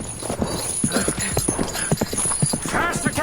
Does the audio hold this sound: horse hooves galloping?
yes